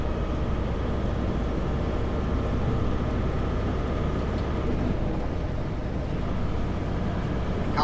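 Loud, steady low rumble of a truck engine-braking down a steep, snowy mountain pass on Kootenay Pass in 13th gear, droning evenly throughout with no talk.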